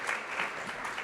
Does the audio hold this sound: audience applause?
yes